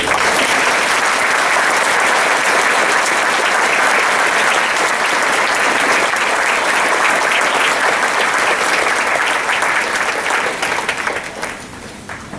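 An audience applauds students standing at a school promotion ceremony, a dense, steady ovation of many hands filling the room for about eleven seconds before tapering off at the end.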